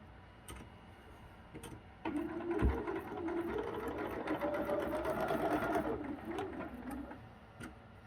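Sewing machine stitching quilt selvage strips to regular fabric, starting with a few ticks before a steady run of fast motor whirring and needle ticking for several seconds, then slowing and stopping; fairly quiet and close.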